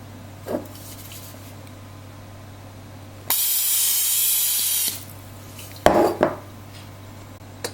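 A cooking spray can hisses in one sustained burst of about a second and a half into a Ninja cooking system pot, with a few soft clunks before and after.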